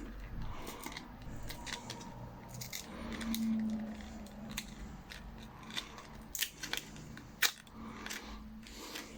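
A well-packaged computer RAM module being unpacked: close, quiet crinkles, snips and clicks of plastic packaging, with sharp taps and rustles scattered irregularly and growing busier toward the end.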